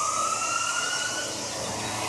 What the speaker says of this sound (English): the sirens have been going off all morning